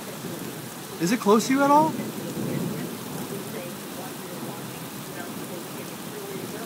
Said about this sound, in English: It's getting closer, the rain's getting heavier.